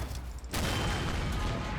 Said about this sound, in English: So a bit of 50 cal fire,